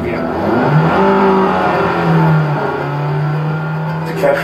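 A revving engine effect for a miniature car in a VR sandbox installation whines and shifts pitch up and down, fairly loud and continuous, with a person talking over it.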